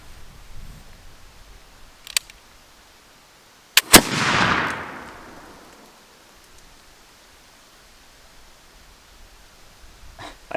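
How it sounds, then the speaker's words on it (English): A flintlock muzzleloader loaded with an 80 grain charge fires at a baseball from about 10 feet: a short sharp click, then one loud blast with a long hissing tail of smoke and debris, in quiet outdoor surroundings. "we got the Flintlock loaded up here with a 80 grain charge. So we're shooting, we're only like 10 feet away or so."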